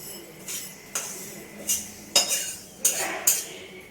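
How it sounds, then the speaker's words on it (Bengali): A series of sharp metallic clanks and scrapes, about seven in irregular rhythm, like a wok being handled and set down on a stove. "কড়াটা বসিয়ে দিলাম।"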